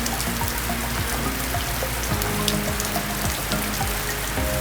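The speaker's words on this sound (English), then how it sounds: "it's a rainy day" Steady rain falls outdoors on a wet day along the Camino Portugués central route, a dense, even hiss of drops hitting surfaces that never lets up, with a faint low hum beneath it and no talking.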